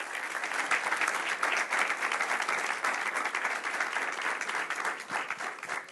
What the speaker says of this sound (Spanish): quería un aplauso para ellos